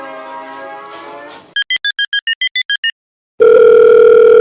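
A telephone call is being placed: a quick string of about ten short dialing beeps is followed after a pause by a steady, loud ringback tone, with a brief tone and noise at the start and no talking.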